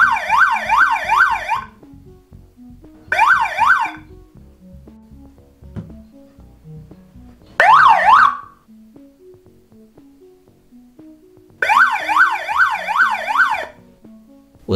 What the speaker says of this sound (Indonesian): Sirine ini menyala jika dia mendapat power supply 12 volt.